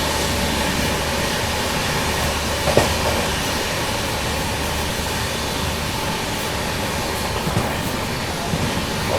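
A nonstop special train running from Jaipur to Mumbai races through Kishangarh station with a loud, continuous rushing rumble and rail clatter and a few faint knocks. No distinct horn blast stands out.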